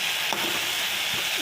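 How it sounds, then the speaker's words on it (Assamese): Okra frying in a pan gives a brief, close sizzle with soft scraping sounds of stirring. "এতিয়া এই ভেন্দিখিনি ভাজি থাকোঁতে"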